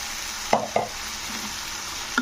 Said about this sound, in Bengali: কিন্তু টমেটো পেস্টটাকে একটু নাড়তে হবে